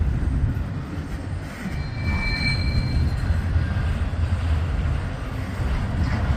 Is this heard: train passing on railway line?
yes